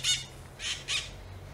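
A bird squawks outdoors in three sharp, high bursts, one first and then a pair close together, fairly near and heard alone over a faint background.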